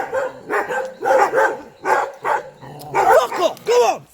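A vigilant security guard dog barks in repeated loud, close bursts, roughly one every half second, with a few yips and whimpers mixed in.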